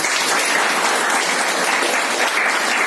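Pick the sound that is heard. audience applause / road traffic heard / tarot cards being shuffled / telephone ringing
audience applause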